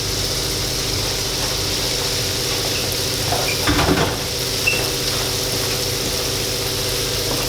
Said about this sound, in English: we're going to let the onions and the garlic saute